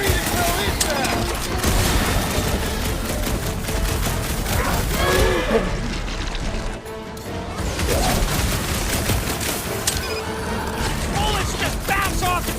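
Sustained automatic gunfire rattles against a large armoured creature during a Guardians of the Galaxy video game battle, dense and loud throughout with crashes and metallic impacts, briefly dropping out near the middle before resuming, with voices shouting over it.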